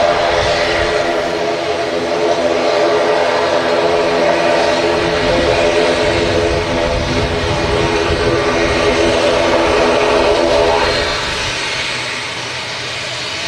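Aer Lingus Regional ATR turboprop from Dublin at Manchester Airport, a steady broadband engine roar holding loud and close for about ten seconds before easing off slightly.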